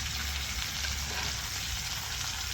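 Steaks sizzle steadily in a hot pan with garlic, a continuous close frying hiss with no voices.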